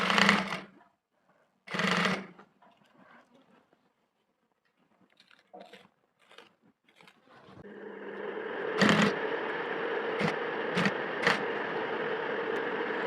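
A sewing machine stitches a trouser waistband fitted with elastic and buckram. It runs as a steady, fairly loud whir in the second half, after a few short handling bumps and quiet rustles.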